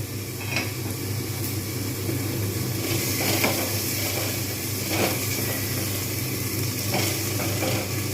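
Potatoes with onions and spices frying in a pan, giving a faint, steady sizzle throughout with occasional soft clinks.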